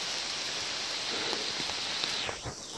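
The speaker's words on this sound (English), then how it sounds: "Rain pouring down." Steady rain pours down on the Appalachian Trail in a dense, even hiss that fills the space, continuous and fairly loud throughout.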